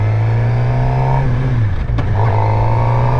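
A motorcycle engine, ridden by a first-time rider on neighborhood roads, holds a loud, steady throb close by, dips briefly, then rises again as gas is added.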